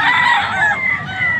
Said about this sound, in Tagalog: punta tayo doon sa bintahan ng mga manok